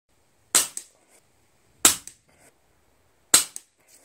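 Three sharp shots from a URAGAN bullpup PCP air rifle crack out at even intervals of about 1.4 seconds, each followed by a faint echo or pellet impact, with silence between and no talk.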